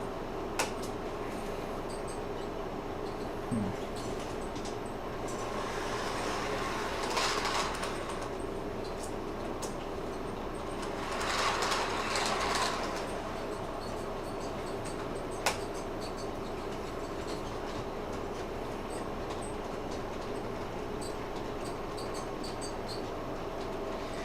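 A small model freight train with a caboose rumbles steadily along its layout track for a long stretch, with faint clicks and a couple of louder passes swelling and fading.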